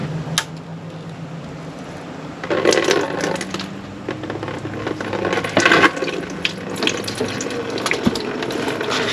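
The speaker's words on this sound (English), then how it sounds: "maybe let's get a rubber glove here and just drain it in this bugger right here" Antifreeze drains from a Mercedes W124 wagon engine into a rubber glove, a continuous close trickling and splashing of liquid that swells after a few seconds amid faint workshop clatter.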